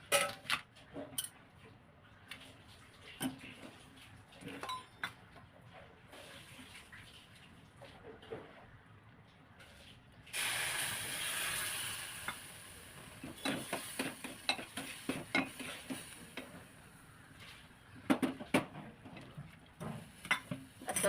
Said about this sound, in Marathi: आता यामध्ये घालायचे दूध.